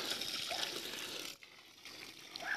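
Water running from a newly dug well, a continuous trickling, splashing flow heard close by at low level, briefly dipping before resuming, with no talking.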